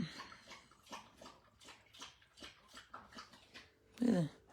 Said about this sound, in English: I get so embarrassed when they're slurping up water like that